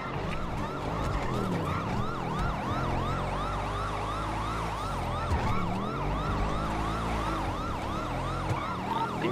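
An EMS ambulance siren wails in a steady, rapidly cycling yelp pattern, loud and close, over the rumble of road traffic.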